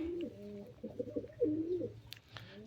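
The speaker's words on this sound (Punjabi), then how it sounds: "ਹੁਣ ਤੁਹਾਨੂੰ ਦਿਖਾਉਂਦੇ ਆ ਕਬੂਤਰ ਆਪਣੇ" Soft, close pigeon cooing in repeated warbling phrases, with a faint brief chirp near the end.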